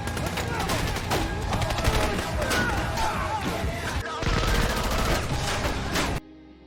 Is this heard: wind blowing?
no